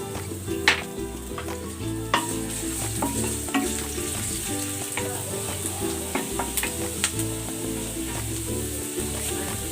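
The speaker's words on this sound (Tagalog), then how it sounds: "Maglagay tayo ng mantika. Igisa na natin tong luya." Ginger sautés in hot cooking oil in a pan, giving a steady crackling sizzle broken by frequent stirring clicks and scrapes of a utensil, close and continuous throughout with no voices.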